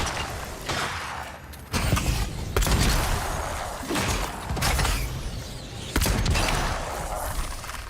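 Pistol shots ring out in the video game Avowed, a run of sharp bursts spaced a second or so apart over a busy backdrop of mechanical clatter and thuds.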